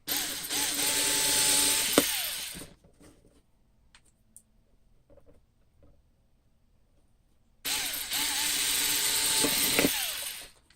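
A power drill running at low speed into a headphone part gives a steady whirring buzz near the mic. It sounds in two stretches with a quiet pause between them.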